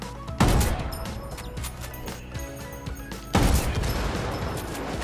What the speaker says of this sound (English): I think the first shot must have missed.